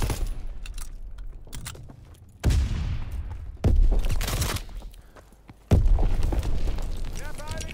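Gunfire and explosions in the World War II shooter Call of Duty WWII multiplayer, several sharp loud bursts with booming tails spaced a second or two apart, over background battle noise.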